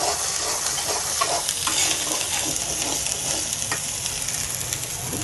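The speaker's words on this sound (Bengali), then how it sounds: "এর মধ্যে দিয়ে দিচ্ছি আদা রসুন বাটা, মরিচের গুঁড়ো, হলুদের গুঁড়ো। এটা ভালোভাবে কষিয়ে" Onion, ginger-garlic paste, chili powder and turmeric sauté in a hot pan, a dense, continuous close sizzle with light spoon scrapes throughout and no voices.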